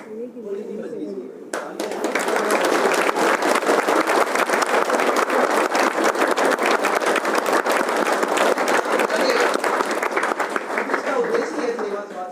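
Sustained audience applause at a seminar, dense clapping that starts abruptly after about a second and a half and continues steadily and loudly to the end, briefly preceded by talk.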